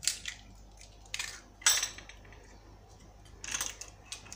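Crumble ingredients with cinnamon and cornstarch being stirred in a bowl, light scraping and clinking of a utensil in a few short irregular bursts, close and fairly quiet.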